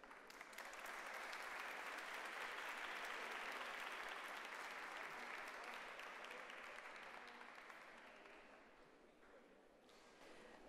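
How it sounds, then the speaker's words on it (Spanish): Sustained, loud applause from a large crowd at a book presentation in Chihuahua, Mexico, steady for several seconds and then gradually tapering off. "le damos con un fuerte aplauso la bienvenida"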